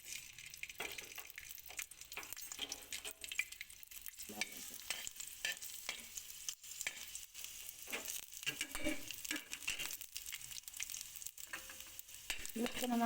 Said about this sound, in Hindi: लहसुन हमारा रोस्ट हो गया